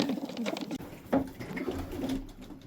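Soft, low cooing of young pigeons nearby as they are moved to a new loft, a few throaty warbling calls repeating over faint background rustle.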